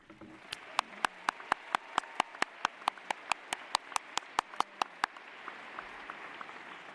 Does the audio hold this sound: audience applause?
yes